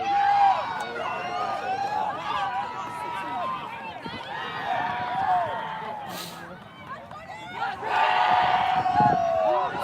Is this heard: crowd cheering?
yes